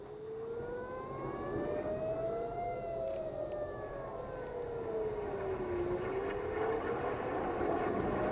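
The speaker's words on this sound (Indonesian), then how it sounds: "Sirine serangan udara terdengar di seluruh kota Tel Aviv Selasa pagi waktu setempat." An air raid siren wails across the city of Tel Aviv, its long tone slowly rising and falling over a steady, distant roar of background noise, with no voices present.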